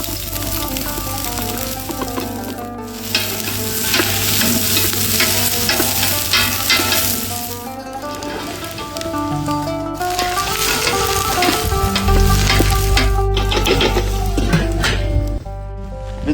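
Onion and green pepper frying in olive oil, a loud continuous sizzle with frequent stirring and scraping in the pan, close up and steady throughout, with a few short drops in intensity.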